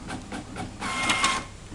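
Lexmark X3690 colour inkjet printer running: a quick series of soft mechanical pulses followed by a louder whirring feed-and-print pass, close and alone.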